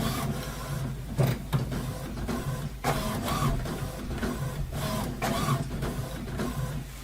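HP OfficeJet Pro 8720 inkjet print heads shuttle back and forth with whirring mechanical sweeps and clicks, a steady rhythmic printer hum running throughout.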